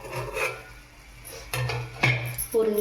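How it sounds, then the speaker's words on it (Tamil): A metal plate is set over a pan of cooking banana rava kesari with a few clanks and scraping rubs, then a brighter clink near the end, all close and fairly loud. "இது மேலே ஒரு பிளேட் போட்டு ஒரு 2 செகண்ட் சும்மா நம்ம மூடி வைப்போம்"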